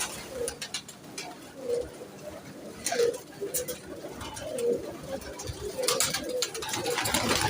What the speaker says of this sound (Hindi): देखें कैसे लाजवाब कबूतर हैं।